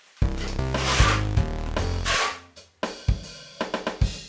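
A trowel spreads tile adhesive across a bathroom wall, long smeary scrapes giving way to a run of short, quick strokes close by, with no talking.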